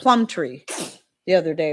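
A single sharp sneeze bursts out between stretches of a person talking, close and fairly loud, with a short pause after it.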